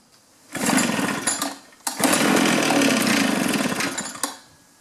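Small two-cycle engine on a trimmer, blower or chainsaw that has been hard to start, briefly buzzing, dropping off, then roaring steadily at close range for a few seconds before cutting out.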